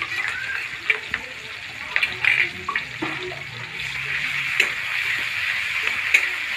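Ginger paste sizzling in hot oil in a pan, a steady close hiss with occasional crackles and stirring clinks while the vegetable chop filling is cooked.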